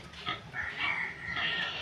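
A pig oinks in a few short nasal grunts, heard faintly in the background indoors with no talk over it.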